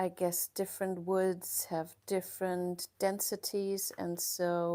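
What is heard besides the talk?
No everyday noise stands out behind the speech.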